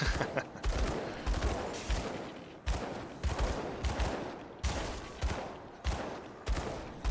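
Rapid video-game gunfire shooting barrels, bursts of loud shots in a repeating rhythm of about six volleys, each with a short gap before the next.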